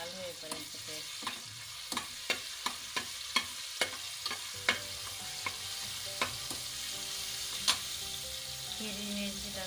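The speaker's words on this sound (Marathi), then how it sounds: "तेल गरम करायला अद्रक लसणाची पेस्ट टाकूया। चांगली परतून घेऊया लाल होईपर्यंत पेस्ट।" Ginger-garlic paste frying in hot oil, a steady sizzle with a series of crisp spatula taps and scrapes against the pan at irregular intervals, moderately quiet and without speech.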